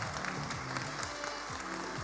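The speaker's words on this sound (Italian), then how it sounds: "Facciamo un applauso alla giuria forte, a Luigi Chirco," An audience at a hospital talent show applauds the jury, giving a steady wash of clapping that fills the whole moment at moderate loudness.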